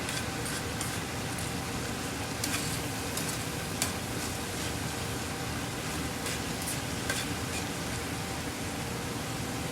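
Cabbage sautéing with soy sauce in a pan, an even, continuous sizzle with faint crackles throughout, steady and fairly close, with no talking.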